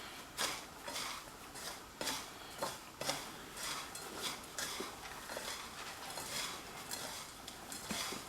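A Parmesan cheese and breadcrumb mixture for chicken parmigiana is stirred in a bowl. A utensil scrapes and clinks against the sides in a steady, repeated rhythm, close and fairly quiet.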